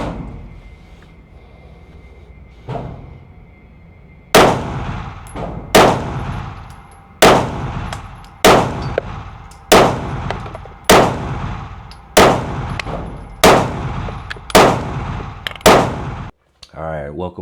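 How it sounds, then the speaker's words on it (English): A Springfield Armory XD Mod 3 handgun fires ten loud, sharp shots at a range, spaced roughly a second and a half apart with a short echoing decay after each, following a quiet lead-in with a few faint clicks. "that was me shooting the Springfield Armory XD Mod 3 at the range"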